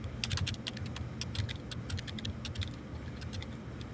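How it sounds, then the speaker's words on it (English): Someone types on a computer keyboard, making quiet, quick clusters of clicking keystrokes in an uneven rhythm at close range. "I can hear you typing."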